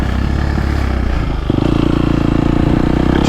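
A 2022.5 KTM 250 Factory Edition two-stroke dirt bike on a GP track revs under throttle, a loud close buzzing engine note that jumps sharply in pitch and intensity midway and holds there.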